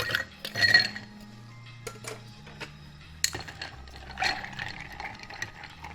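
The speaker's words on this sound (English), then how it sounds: "Add some ice and then stir it down." Ice clinks against a mixing glass as a cocktail with Peychaud bitters is stirred, bright irregular glassy taps and rattles close by, with no one speaking.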